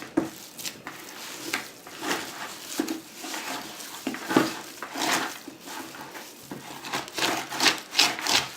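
Paper clay being stirred and worked by hand: wet, gritty scraping and rubbing strokes that come in an uneven rhythm of repeated swipes, close and moderately quiet, with no voices.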